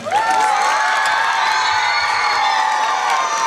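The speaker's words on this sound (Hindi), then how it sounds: "इस बच्चे के लिए तालियां हो जाए।" A school audience at an annual celebration in Bidar cheers and shouts for a student, a loud, dense crowd roar with high whoops that holds steady for the whole stretch.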